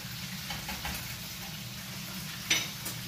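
Steady sizzling and crackling of chicken frying in a pan, with a faint clink of utensils partway through; no talking.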